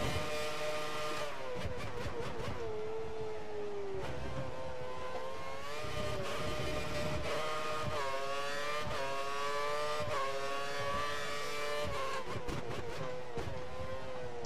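A Formula 1 car engine in the racing game F1 2013 at the Hungary circuit howls close and loud for the whole stretch. The pitch climbs through the gears, with sharp upshift breaks and repeated rev rises and drops.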